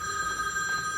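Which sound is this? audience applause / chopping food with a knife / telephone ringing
telephone ringing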